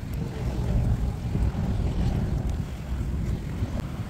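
An RC boat's electric motor at full throttle on open water, a loud continuous rushing drone mixed with wind buffeting and water spray, with no talking.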